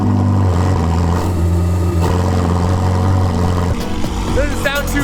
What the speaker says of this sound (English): This is a cold startup on a Ferrari 488 Spider. With the freestyle exhaust.